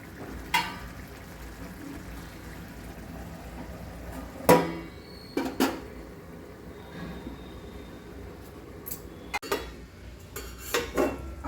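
A metal pot lid set down on a pot of simmering chickpea curry (chana bhaji) in a home kitchen, heard as a few sharp clinks and clatters spread over quiet background bubbling, fairly faint overall.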